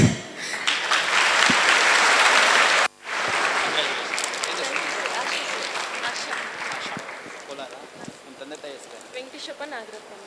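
Audience applause at a police commissioner's felicitation event, loud sustained clapping that breaks briefly, then resumes and gradually thins under talk.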